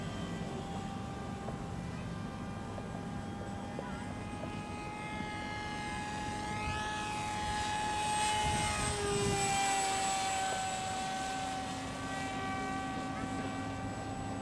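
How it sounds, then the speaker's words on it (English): Radio-controlled model airplane, a large trash-built plane, flying at half throttle: a continuous buzzing propeller engine whine with a steady tone that swells and dips in pitch as the plane passes nearby, loud and unbroken. "I am flying at half throttle. It's about how fast my largest models will fly."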